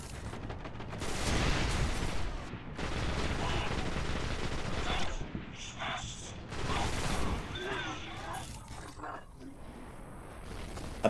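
Rapid enemy gunfire in the video game Destiny rattles in dense, continuous bursts for most of the stretch, tapering to scattered shots near the end as a voice talks over the fight.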